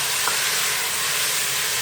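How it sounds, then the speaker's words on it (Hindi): Steady, even sizzling of food frying in a pan for beef aloo keema, a continuous hiss throughout with no talking. "इसको फ्राई करेंगे।"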